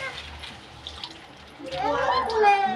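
Tap water runs into a container at a village home, a steady rushing wash that swells louder partway through while a voice and other talk carry over it.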